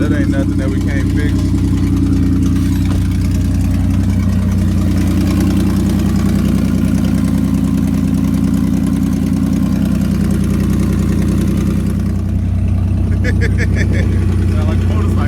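A loud Buick Rendezvous or Pontiac Grand Prix engine idles with a heavy, rough, continuous rumble, steady and close throughout the clip.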